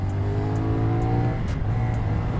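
A CF Moto 450SR motorcycle engine runs steadily at moderate revs, a continuous close-up drone with a smooth tone that barely changes over a couple of seconds.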